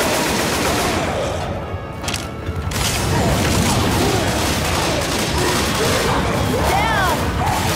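Heavy automatic gunfire aimed at the Tank in Left 4 Dead 2 on expert difficulty, a loud, dense barrage with crashing impacts that briefly dips before resuming, with voices in the mix.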